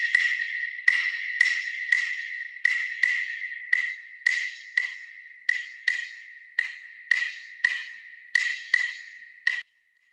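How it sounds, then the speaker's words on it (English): Claves, two wooden sticks struck together, click out a repeating clave pattern of sharp, bright, dry knocks in groups with short gaps, close and clear with no other sound. "The claves are 2 pieces of wood"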